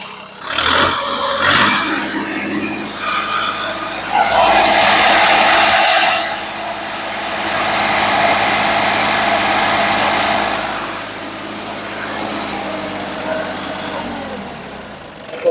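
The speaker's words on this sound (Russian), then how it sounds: "Дам точнее послушать, как работает двигатель, дабы никаких вопросов ни у кого не возникало." An ISEKI TU175 mini tractor engine runs at a steady idle, close and loud, with a brief burst of louder revving in the middle and a constant low mechanical drone throughout.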